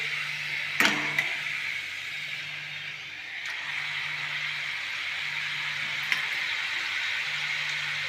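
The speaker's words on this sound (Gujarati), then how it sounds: "ધીમી આંચ ઉપર જ તળાવા દેવાનું" Steady sizzling of ingredients frying in a pan on a low flame for manchow soup, a continuous soft hiss broken by a couple of sharp utensil clinks.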